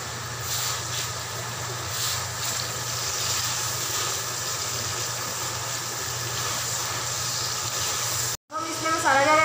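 Steady loud hiss of chopped tomatoes sizzling in hot oil as they go into a pan of kadhi pakora, a continuous frying rush that cuts off abruptly near the end.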